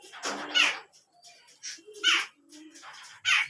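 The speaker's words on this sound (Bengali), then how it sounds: "সম্ভবত একজোড়া ছেলে মেয়ে কবুতর গুলাকে অস্থির করে রাখছে" Pigeons in a pigeon farm loft, including a restless male and female pair, give soft low coos mixed with sharper bursts of wing flutter and scuffling, nearby and intermittent.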